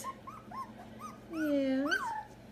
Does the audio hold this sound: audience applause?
no